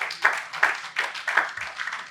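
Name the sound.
applause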